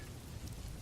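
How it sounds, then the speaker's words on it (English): Steady rain drums on a roof in a constant, dense patter, close and even throughout, with no voices and no distinct breaks. "the rain's steady drumming against the roof"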